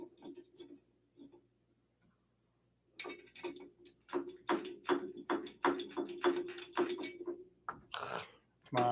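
Screws driven by hand while assembling a Prusa i3 MK3S+ 3D printer: soft clicks and scrapes at first, then after a brief quiet a quick run of close ratcheting ticks and metallic clicks.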